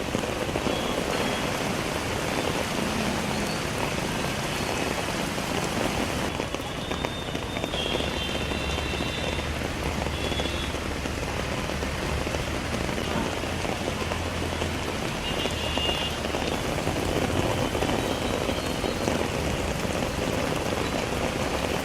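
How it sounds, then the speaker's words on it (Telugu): Heavy rain pouring down in Hyderabad, a dense steady roar of drops hitting surfaces at constant loudness, with a low hum of passing traffic partway through. "హైదరాబాద్ లో మరోసారి భారీ వర్షం కురుస్తుంది."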